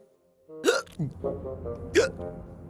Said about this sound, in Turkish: şu anda da hıçkırık tutmuştu